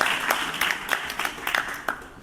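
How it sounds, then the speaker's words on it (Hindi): Scattered clapping from an audience at a youth parliament event for a young boy who just spoke, a brief, moderately loud patter of hands with several distinct claps standing out. "देव, इनके लिए जोरदार तालियां बजाएंगे।"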